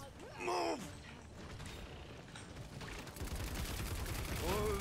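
Sniper gunfire from the video game Paladins rings out as a string of sharp, fairly faint cracks over steady battle noise, with brief voices speaking at the beginning and end.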